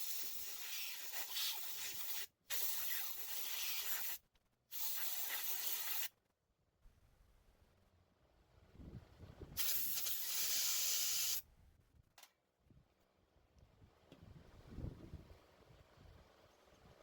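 Several bursts of loud, close aerosol carburetor cleaner spraying into a small engine carburetor, hissing in sharp blasts of a second or two, with quiet pauses and faint handling noises between them.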